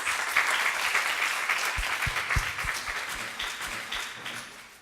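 An audience at a school event gives a round of applause, a dense steady wash of many hands clapping, loud and close, tapering slightly toward the end.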